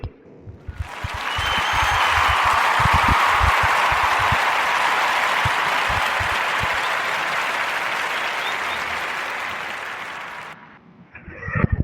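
A podcast audience gives a guest a round of applause. The clapping is steady and full, swelling quickly and holding for about ten seconds before cutting off.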